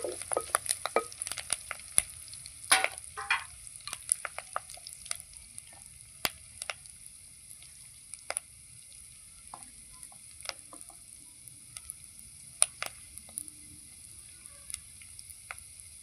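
Cumin seeds, garlic and curry leaves fry in hot oil in a pan for a Telugu tamarind-leaf chutney, giving a steady soft sizzle with scattered crackles and pops throughout, no talking.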